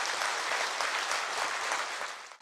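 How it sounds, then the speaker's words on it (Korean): A large audience at a company gathering claps in encouragement, a dense, steady wash of applause that holds evenly and then cuts off abruptly at the end. "우리 격려의 박수 한번 부탁드리겠습니다"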